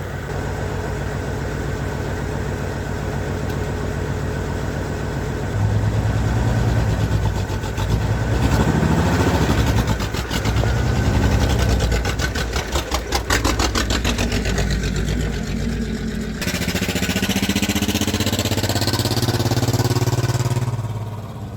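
A Ford Flareside pickup's engine runs as the truck moves around a shop, a steady mid-pitched drone that swells and rises in revs partway through, then settles into an even running hum, close and continuous with no talk.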